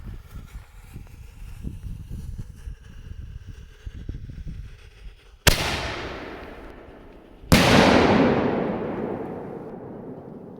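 Two loud, sharp blasts of a firework salute shell on the ground several seconds apart, each followed by a long rolling echo that fades slowly, after a stretch of low rumbling background noise.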